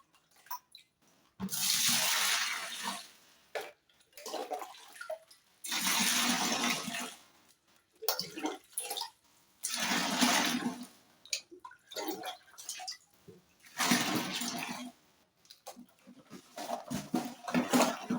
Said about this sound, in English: this is where I will add my, let's say, like 4 liters of water.